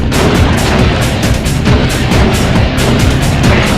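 Dense, relentless barrage of bullets firing in the Sly Cooper video game, loud and continuous throughout, with overlapping impacts and booms and no pauses or talk.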